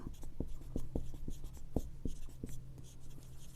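Chalk or marker taps and scrapes on a board during a math lesson, a series of short, fairly close strokes in uneven rhythm over a faint room hum.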